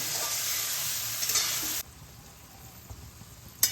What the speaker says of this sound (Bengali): এবার আমি মাছটা অনবরত নাড়তে থাকবো